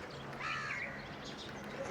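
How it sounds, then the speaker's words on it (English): A crow caws outdoors, a single harsh call standing out near the start against a steady rush of ambient noise, with no one speaking. "This is crow."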